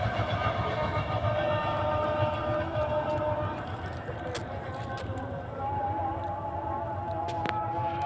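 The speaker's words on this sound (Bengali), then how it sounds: "এই যে ট্রেন চলে গেল।" A train passing along a railway line on a rainy evening, a steady loud rumble of rolling wagons close by, with people talking over it.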